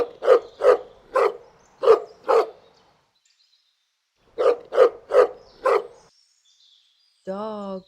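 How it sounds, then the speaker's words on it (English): Farm dog barking close by in two quick series of sharp barks, five and then four, with a pause between and a short tonal call at the end. "Dog."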